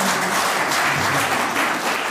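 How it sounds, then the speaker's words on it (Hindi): Dense, loud applause from an audience at a rail employees' camp event in Leh, Ladakh, a continuous roar of many hands clapping without a break. "मैं मैडम के लिए तो जोरदार ताली बजाना चाहती हूँ।"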